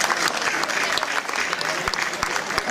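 Audience applauding at a concert in Tuglie, dense continuous clapping with scattered sharper claps, fairly close and loud throughout.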